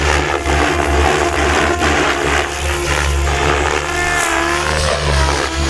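An RC helicopter flying circus tricks, its engine and rotors making a loud, steady whine with slight rises and dips in pitch, close by and continuous, with no speech.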